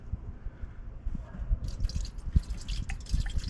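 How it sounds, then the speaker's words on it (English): Liquid splashes and drips while being poured by hand into the engine of a 2003 Ford F-150 with a 4.6L V8, no funnel used, giving an irregular run of close wet splatters and trickles. "Oh, it's splashing everywhere."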